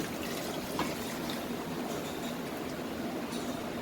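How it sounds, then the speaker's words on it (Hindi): A steady stream of water, 15 cups, pours into a cooking pot of beef for haleem without pause, a continuous splashing rush with no voices. "इसमें मैं 15 कप पानी डाल रही हूँ"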